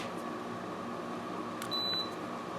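A classic Frigidaire window air conditioner runs with a steady whirring hum while its timer is set, and one short, clear electronic beep sounds partway through over the constant fan noise.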